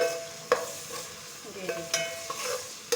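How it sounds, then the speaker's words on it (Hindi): Onions sizzle and brown in a pan for chicken jalfrezi, a steady frying hiss broken by sharp spoon scrapes and stirring clatters at irregular intervals, close and moderately loud. A voice speaks briefly. "ये देखिए हमारा प्याज हल्का सा ब्राउन हो रहे हैं, इसको हम अच्छी तरह से भून लेंगे।"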